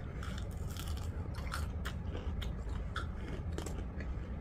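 Crunchy shrimp being bitten and chewed close to the mic, with sharp crisp crunches repeating every half second or so over a steady background hum.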